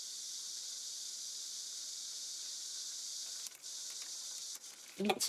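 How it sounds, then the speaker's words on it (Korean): Cicadas drone in a faint, steady, high-pitched buzz that holds constant throughout, picked up at a distance, with a few small clicks and a soft knock near the end. "매미 소리 잡히는 것 같아."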